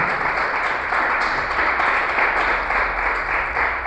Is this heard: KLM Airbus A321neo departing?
no